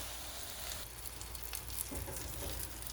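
Potato pancakes frying in a little olive oil in a pot, a soft, steady sizzle running throughout, fairly faint and with no one talking.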